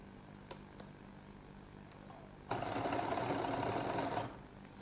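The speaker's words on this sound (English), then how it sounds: "We'll give it a double stitch." A sewing machine double-stitches back over a lady's jacket seam, running in a steady loud continuous whir for under two seconds after a few faint taps, with no talking.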